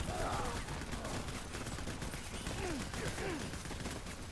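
Gunfire in the video game Death Stranding Director's Cut, a steady dense crackle of shots running throughout at moderate level, with faint chirping game sounds in the background.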